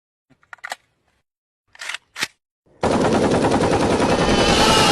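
Gunfire in the tactical shooter game Ready or Not: a few short sharp shots, then a loud sustained burst of rapid automatic fire lasting several seconds, close and dominant.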